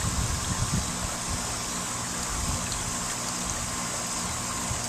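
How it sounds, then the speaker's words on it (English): Water pours steadily from a backyard garden waterfall built from a cascade of Japanese teapots into a basin, a continuous close splashing rush with no speech. "my Japanese teapot waterfall, I call it."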